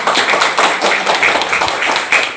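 An audience at an education program opening ceremony in Deli Serdang claps together, a brisk, dense burst of hand claps filling the whole moment with rhythmic peaks.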